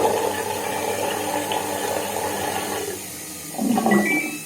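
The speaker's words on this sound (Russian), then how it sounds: "Режим S — это у нас отжим и слив." A Samsung Diamond WF1590NFU washing machine in test mode drains water, with a steady rushing flow and pump hum that drops off near the end before a brief gurgling surge.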